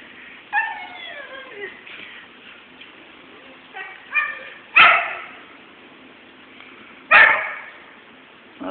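Dogs barking outdoors where a fledgling bird has been found: two sharp, loud barks several seconds apart, with soft chirping and quieter noises between them.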